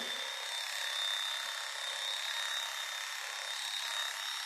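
Electric clippers shave a cat's fur ahead of neutering surgery, giving a steady, close, continuous buzzing hum with a thin high whine that holds evenly throughout, with no talking.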